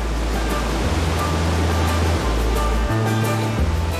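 Strong river rapids rush below a waterfall at Si Phan Don in Laos, making a loud, unbroken roar of churning water close by.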